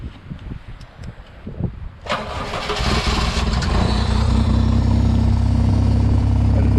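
A Ventrac Tough Cut tractor engine cranks briefly after some faint handling noises, catches and settles into a loud, steady close-up idle that runs to the end.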